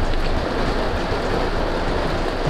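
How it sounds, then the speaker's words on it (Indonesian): Heavy rain pours down in a dense, loud, unbroken hiss that sounds close and fills the whole stretch, with no speech. "Tapi kondisi hujan deras banget, bawa banjir."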